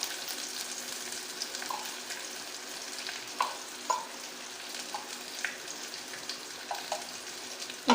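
Coriander powder and spices cooking in a pan give off a faint, steady sizzle of frying, broken by scattered light clinks and scrapes of stirring, with no talk over it.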